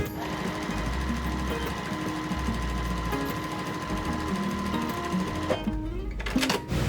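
A sewing machine stitches quilt fabric triangles for a flying wheels quilt block, running steadily and close with a continuous mechanical hum and rapid needle rhythm, stopping near the end.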